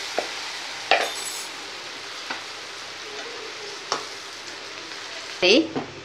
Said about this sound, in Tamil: இப்போ முட்டையை போட்டு பொரிச்சு எடுப்போம்